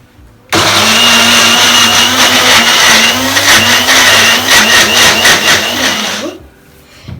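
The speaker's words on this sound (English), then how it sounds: "Grind it well until you get smooth paste" Electric grinder blending flax seeds into a smooth paste, a loud steady motor whir running several seconds with a shifting pitch, then cutting off.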